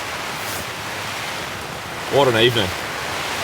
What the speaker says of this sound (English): In the tent and the rain is pouring.